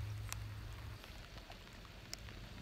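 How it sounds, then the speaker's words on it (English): Rain falling outside on a dark evening, a steady soft wash of drops with a few sharper taps, low and fairly faint throughout with no talking. "I got a mouthful of throat lozenges and then a lunchbox full, and it's raining."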